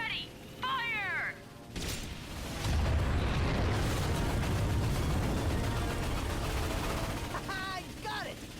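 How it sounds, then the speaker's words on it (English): Defense cannons fire ion blasts in the Ratchet and Clank video game, a dense loud roar of blasts and rumble building and sustaining for several seconds, with brief game voices before and after. "We have to hit them with an ion blast."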